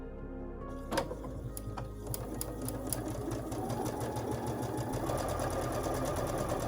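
A sewing machine chain-sews aqua fabric pieces for a Christmas table runner. It starts after a moment of quiet, clicks a few times, then settles into a fast, even mechanical whir that runs close and steady with no talk.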